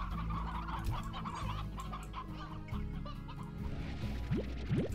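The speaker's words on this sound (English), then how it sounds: "Now I got chickens all over the goddamn place." Chickens clucking in the Slime Rancher video game, a dense flock of fowl calls over steady game music, with a few louder sharp squawks toward the end.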